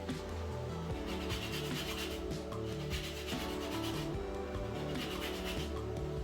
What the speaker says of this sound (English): I'm going to grate some lemon zest in.